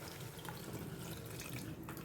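Water pours steadily into a pan of egg curry as it cooks, a soft continuous splashing trickle heard close and fairly quiet, with no talking.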